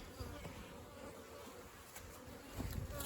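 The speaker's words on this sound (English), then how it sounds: "So now we've got just the bees flying around." Bees from a caught swarm buzz continuously close by, a dense, droning hum with individual insects flitting past and occasional soft knocks.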